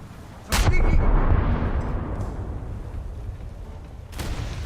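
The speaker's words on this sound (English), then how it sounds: "And that mother should be dead from that salvo." Heavy naval gun salvo in a warship combat video game: a sharp booming blast followed by a long rumbling roll, with another distant boom near the end.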